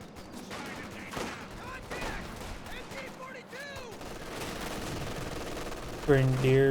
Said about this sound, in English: Grenadiers or MG40 firing away, hitting the rifle squad there.